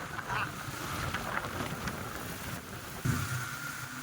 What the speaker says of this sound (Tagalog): Sobrang lakas pa rin ng ulan.